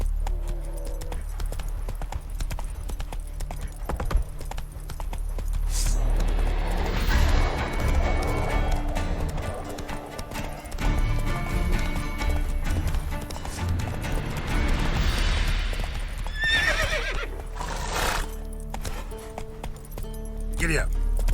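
Roach, the horse in The Witcher 3, gallops with a rapid, steady clip-clop of hooves that continues for most of the stretch, mixed with game ambience and occasional crashes while voices talk over it.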